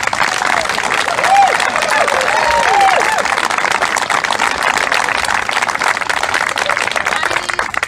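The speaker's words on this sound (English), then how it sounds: "you deserve the biggest round of applause" A crowd at an Offaly county senior camogie final applauds steadily and loudly, with a dense, sustained wash of clapping and a few scattered cheers throughout.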